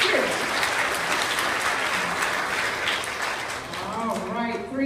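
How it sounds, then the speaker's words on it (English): Applause for a teacher at a school awards ceremony for third and fourth grades, dense sustained clapping from a large audience filling the hall, with a few voices mixed in. "Give her a great round of applause."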